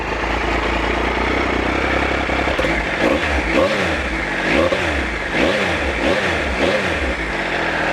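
A triple-cylinder adventure motorcycle engine that has been standing unused for a while idles close up. Then come several repeated throttle blips, each rising and falling in a raspy surge, with no voices.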